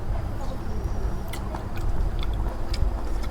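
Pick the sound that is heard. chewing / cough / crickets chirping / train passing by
chewing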